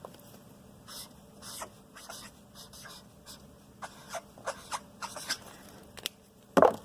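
Pen writing a name on a sheet of paper, heard as faint, intermittent scratchy strokes in short bursts close by, ending with a louder rustle or tap.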